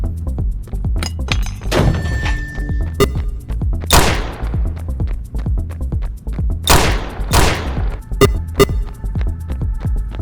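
Stun grenade blasts and gunfire in an audio drama tactical raid: loud, sharp bangs with ringing tails, clustered around four bursts, over a steady low rumble and scattered metallic clinks.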